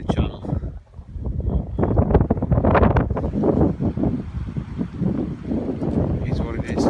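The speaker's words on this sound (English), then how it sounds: "It's hell windy here too, really bad." Strong gusts of wind buffet the microphone on a winter beach in a rough, fluctuating roar, with a voice partly audible underneath.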